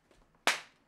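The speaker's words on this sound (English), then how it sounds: "I think it's like clap." A single sharp hand clap, close and crisp, with a quick decay after a moment of near silence.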